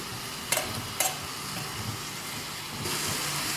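Onions soften in a pan for a Kerala-style fish dish, a soft, quiet sizzle with a couple of brief utensil clicks near the start.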